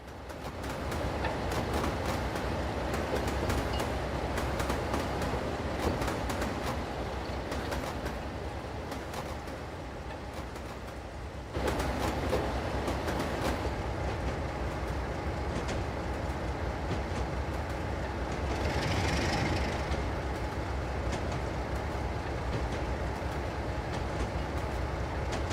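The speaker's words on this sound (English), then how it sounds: "Little train making its way up the hill." A small steam train climbing a hill on the Talyllyn Railway, heard from on board as a steady rattling rumble of wheels and carriage with a brief shift midway and no talk.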